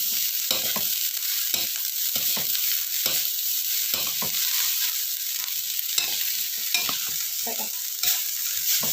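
Nasi goreng with sambal tempe is stir-fried in a pan, giving a continuous bright sizzle broken by repeated scraping and tossing strokes of a spatula at an uneven rhythm, close up and with no talking.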